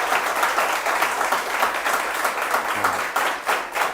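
Students in a company accounts lecture break into sustained applause, a dense, crackling wash of many hands that stays steady for several seconds, close and fairly full, with no talk over it.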